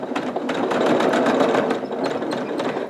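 A sewing machine runs steadily, stitching a quarter-inch seam on a string quilt, its rapid mechanical whir holding close and even throughout with slight pulsing.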